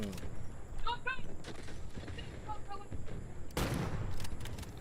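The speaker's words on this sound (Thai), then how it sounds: "ยิง" Scattered gunfire from the video game Delta Force, with a few sharp shots and a louder burst near the end, fairly quiet and mixed with game sounds.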